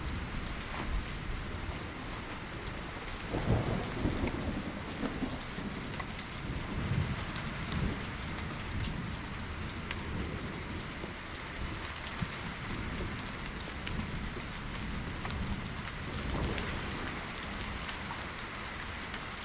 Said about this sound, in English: This has been a pretty good thunderstorm.